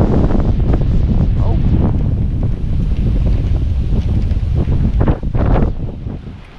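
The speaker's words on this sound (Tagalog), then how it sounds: "Hindi na ata to ambon, tubig na ata yung dagat sa sobrang lakas ng hangin." Strong wind at sea buffets the microphone with loud, continuous roaring gusts, mixed with spray and water noise from the waves, and a voice speaks faintly under it.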